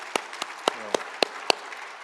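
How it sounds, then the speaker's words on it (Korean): Sparse, crisp hand claps ring out at a sermon gathering, about six distinct claps spaced at a steady rhythm over a quiet room. "박수 한번 해주십시다"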